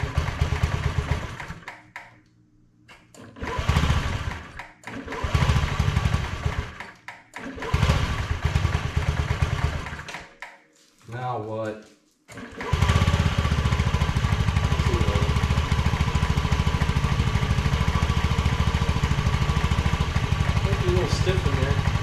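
A Honda CR500 motorcycle engine fitted in a Schwinn bicycle sputters through several revving bursts with pauses and a voice between, then settles into a loud, steady, rough idle.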